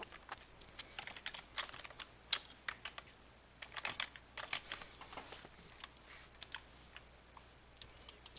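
Quiet typing on a computer keyboard, with irregular bursts of light keystrokes and brief pauses running throughout, close by and alone.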